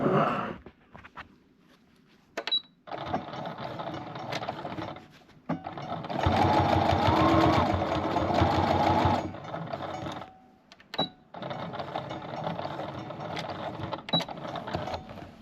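A sewing machine stitches a costume in several long runs of rapid, steady whirring and clattering, broken by short pauses and small clicks, loud and close with no talk.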